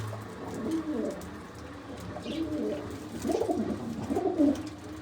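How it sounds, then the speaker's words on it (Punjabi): Large pigeons, including a red Chinese breed, coo in repeated low, throaty bursts, fairly close, with a steady background hum beneath them. "ਆਹ ਕਬੂਤਰ ਜਿਹੜਾ ਸਾਹਮਣੇ ਬੈਠਾ ਲਾਲ ਚੀਨਾ ਆ"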